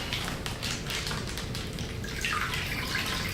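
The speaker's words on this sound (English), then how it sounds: "I'm going to add a bit more of the water." Water poured into a small 5-gallon Fluval Spec 5 aquarium tank, a steady broadband splashing and trickling that runs continuously and fairly loud, swelling slightly near the end.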